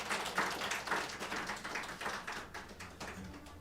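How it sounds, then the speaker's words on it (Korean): A church congregation claps after an infant baptism at a Christmas service, a steady run of many hands that thins toward the end, with no talking over it. "박수 한 번 더 치겠습니다."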